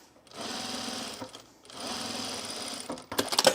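A domestic sewing machine stitching through chocolate-coloured canvas for an apron runs in two close, steady bursts of rapid mechanical whirring, then stops before a short clatter of handling.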